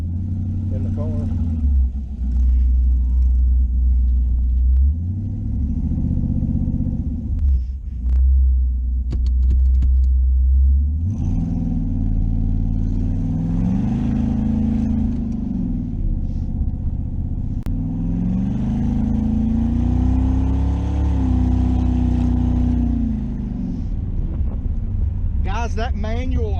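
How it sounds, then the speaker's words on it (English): A Camaro race car engine with a Turbo 350 transmission idles with a steady low rumble throughout, while someone talks over it almost continuously. "once I'm out of the garage, it's actually fairly quiet, idling in the car"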